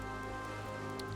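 Rain falling in Final Fantasy XI, a soft continuous patter layered over steady tonal game ambience, faint and even throughout with no voices.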